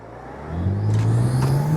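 A BMW E92 335i with a ZF6HP transmission launches hard, its engine note climbing steadily as the tyres spin, loud and close, with no voices.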